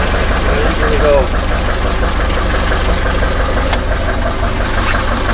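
A car engine fitted with an HHO system idles steadily and loud at close range, a continuous low rumble with a faint knocking texture, while people talk nearby.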